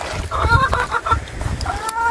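A flock of hens clucks and squawks continuously while being fed grass hung in poultry netting, with overlapping calls at close range over a busy low rumble of movement.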